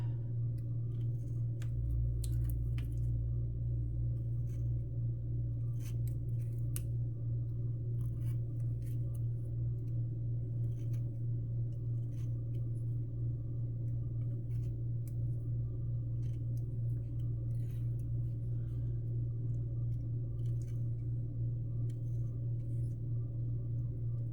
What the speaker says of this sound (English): I'm going to cut out the little tabbies here.